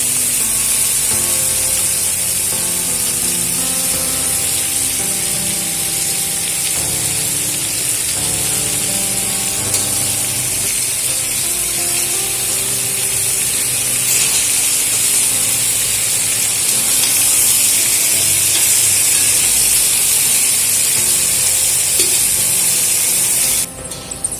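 Jaggery being stirred into a plum pickle cooking in mustard oil, a steady sizzling hiss running without pause under faint scraping.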